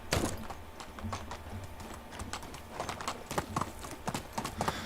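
Horse hooves clip-clop in a quick, uneven rhythm at close range, with no talking, in the video game Medieval Dynasty.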